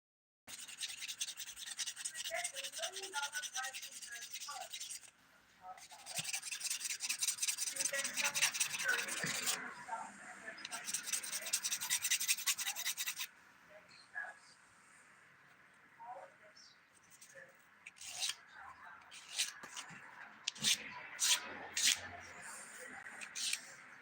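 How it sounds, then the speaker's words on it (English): A nail file rasps underneath a fingernail during a glitter dip-powder manicure. Close, dense bursts of filing come in long strokes, then shorter, quieter intermittent scratches. "Just filing underneath to make sure that's smooth."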